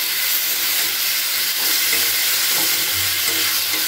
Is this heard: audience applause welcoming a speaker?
no